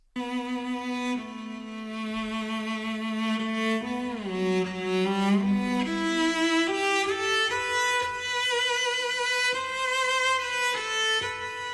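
Deep bowed basses hold long, smooth notes and glide through a slow phrase, sounding full and spacious with a lingering reverberant tail.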